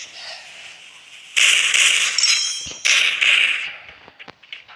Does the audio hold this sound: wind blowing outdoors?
no